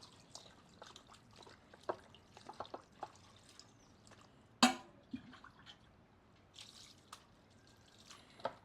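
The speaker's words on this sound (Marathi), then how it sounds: "दोन तीन पाण्याने आपण चिकन चांगल्या प्रकारे स्वच्छ धुवून घेऊ" Raw chicken being rinsed in water for a Goan chicken cafreal: scattered drips, splashes and small pours at close range, quiet overall with one sharp clatter midway.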